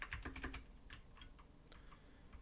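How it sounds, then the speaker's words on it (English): Clicky computer keyboard typing, a quick burst of close, crisp key clacks followed by a few sparser taps, fairly quiet overall. "sorry if the keyboard is exceptionally clicky"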